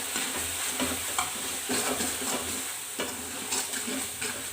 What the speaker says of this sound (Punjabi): ਮਸਾਲੇ ਪਾ ਕੇ ਆਪਾਂ ਇਹਨਾਂ ਨੂੰ ਥੋੜਾ ਜਿਹਾ ਭੁੰਨਦੇ ਆ